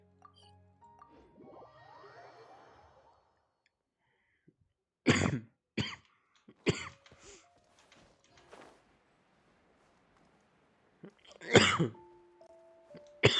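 Several sharp, loud coughs in bursts over a quiet background of game sounds and faint tones, with pauses between clusters.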